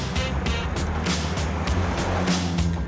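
Vintage cars race through the streets of Monte Carlo, Monaco, a rapid series of loud engine roars and passing bursts following one after another without pause.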